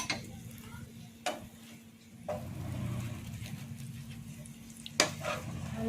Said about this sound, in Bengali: এই দেখুন পাতুরিগুলো আমার লাল লাল করে ভাজা হয়ে গেছে